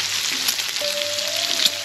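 Sausage frying on a flattop griddle, a steady close hiss of fat sizzling with a faint whistling tone drifting in partway through.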